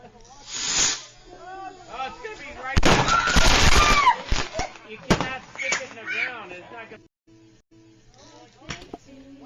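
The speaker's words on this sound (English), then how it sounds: "So watch the firework" Firework misfiring in a replayed clip, a sharp crackling hiss and burst lasting around a second, mixed with voices and other sounds.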